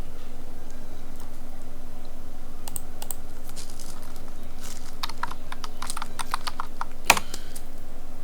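A search term is typed on a computer keyboard: scattered light key taps that quicken into a brisk run of clicks, ending in one sharper keystroke near the end, close and clear over a faint steady hum.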